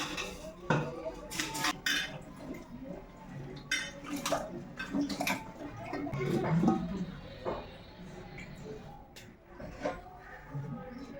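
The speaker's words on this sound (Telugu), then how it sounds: "ఇప్పుడైతే నేను గుమ్మడికాయ ముక్కలు అయితే కడిగి శుభ్రం చేసుకుంటాను." Pumpkin pieces being washed in a pot of water, with close clatter and knocks of a metal vessel, splashing and scraping in irregular bursts, heard alone without talk.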